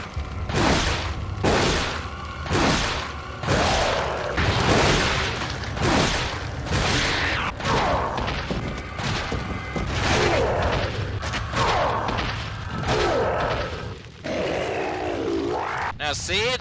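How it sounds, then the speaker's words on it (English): Repeated heavy Broken Butterfly magnum shots, unupgraded, fired at the boss Vitoris Mendez in Resident Evil 4, a rapid series of loud booming blasts mixed with grunts and roars through a dense, busy game soundscape. "13 shots from the Broken Butterfly to take down Vitoris Mendez, unupgraded"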